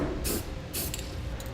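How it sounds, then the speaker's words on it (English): Two short bursts of aerosol clearcoat sprayed over the edges of a hole in the bed of a 2012 GMC Sierra 3500 pickup, each hiss close and steady, with a fainter spurt near the end. "take some Clearcoat and just spray it over the edges of the hole there"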